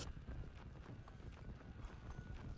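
A horse gallops in Red Dead Redemption: Undead Nightmare, its hooves drumming in a fast, steady clip-clop that stays close and fairly loud for the whole stretch, with no voices over it.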